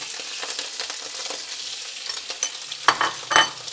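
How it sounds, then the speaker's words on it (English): Shrimp hit smoking-hot oil in a wok and sizzle loudly and steadily, with bursts of scraping and stirring as they are spread out near the end. "I'm gonna add about 1 tablespoon of oil, and we're gonna throw in the shrimp."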